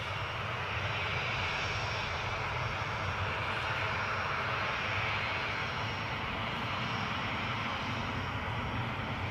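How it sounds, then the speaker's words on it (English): A Dutch airline jet taking off at Newcastle airport, a steady broadband engine roar that holds loud and unbroken throughout, with no talk. "So a very efficient turnaround from the Dutch airline. It's going to be an efficient takeoff."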